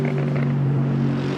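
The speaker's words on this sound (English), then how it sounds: "Amazing sound and very different to other cars this car is producing, and it's really nice to listen to." A Mercedes rally car engine holds a steady, deep droning tone, close and loud, with no change in pitch.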